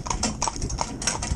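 Hooves clip-clop briskly on hard ground as a single horse in retraining pulls a small, tiny cart. The close, even rhythm of many clear, quick strikes runs alone with no voices.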